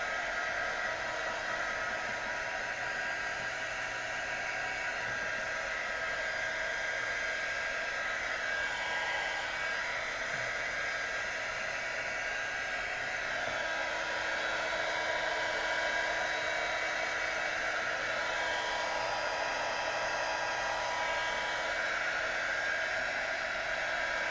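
A hair dryer blows steadily and close for the whole stretch, drying freshly poured acrylic paint pieces, a constant breathy whoosh with no talking over it.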